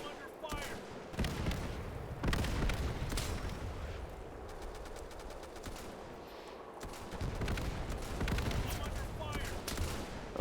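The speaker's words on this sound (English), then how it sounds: "getting some friendly artillery hits" Artillery and gunfire in the video game Easy Red 2, a dense battlefield mix of rattling rifle and machine-gun bursts with heavy booming blasts, continuous and fairly loud, with a voice talking briefly over it.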